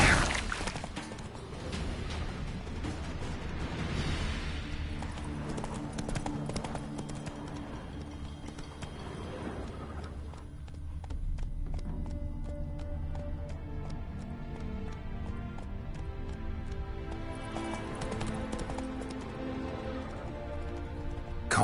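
Rhythmic clip-clop of horse hooves under a continuous bed of game music and ambience, steady and moderately quiet throughout.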